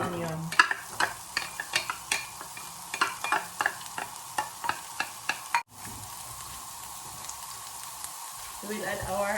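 Chopped onion fries in a pan with browned ground beef, a steady sizzle under a run of rhythmic scraping stirs, followed by a quieter stretch of continuous frying, close by and without talk.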